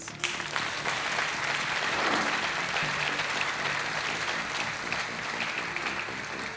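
A TV game show studio audience applauds in a sustained, even wash of clapping that holds steady from start to finish, slightly distant.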